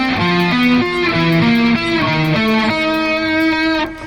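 A loud distorted electric guitar plays a fast arpeggio riff built on diminished fifths, the notes stepping in a steady repeating pattern with heavy sustain.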